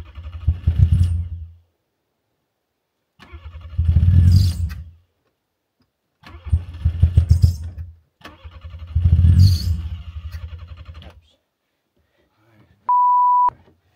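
A car engine is cranked over and over in four separate bursts of chugging turnover with pauses between them, followed by a short electronic beep.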